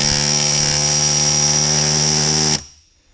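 Pneumatic rivet gun driving a rivet against a bucking bar during a DIY boat transom installation, a loud sustained buzzing hammer burst that stops abruptly near the end, with no talk.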